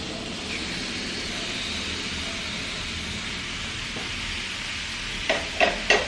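Buffalo heart and kidney innards with garam masala sizzle and fry in a pan, a steady hiss with a few louder spatters and stirring clatters near the end.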